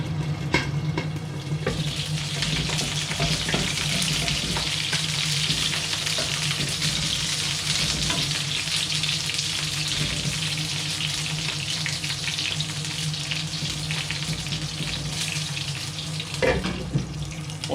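Padron peppers spit and sizzle in hot oil, a dense, steady crackle with sharp pops running close and loud throughout.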